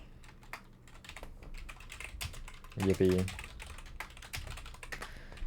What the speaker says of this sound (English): My keyboard isn't too loud, surely.